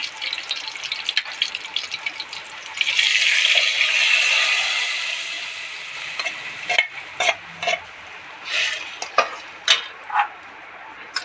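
Mung beans tipped into a hot pan for a Bol Choth dish, with a steady sizzle swelling midway, then separate scraping stirs and short bursts of frying hiss toward the end; no voices.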